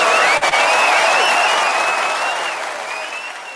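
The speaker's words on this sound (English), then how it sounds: "The crowd goes wild." A large crowd applauds and cheers loudly, with whistles and shouts over steady clapping that fades slightly toward the end.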